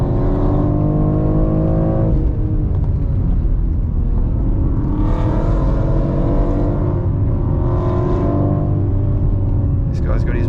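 A 2023 BMW X4 M Competition powers out of the Carousel corner at the Nurburgring, its engine note loud and close, rising and falling with acceleration and gear changes while someone talks over it.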